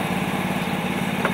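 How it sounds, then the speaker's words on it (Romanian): High-pressure water pump motor on a fire truck running steadily, a dense mechanical hum with a low throb and a constant engine drone, no voices. "motorul pompei"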